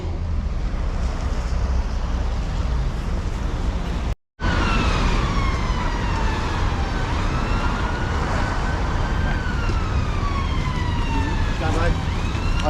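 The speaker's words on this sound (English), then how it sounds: "we hear sirens" Emergency vehicle sirens wail through a town street over steady traffic rumble, a loud wavering tone that rises and falls repeatedly after a brief cut in the recording.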